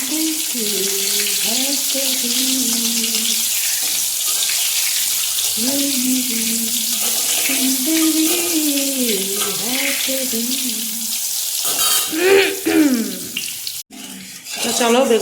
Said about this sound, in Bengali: গান শোনাতে শোনাতে তোমাদেরকে বেগুন ভাজা দেখালাম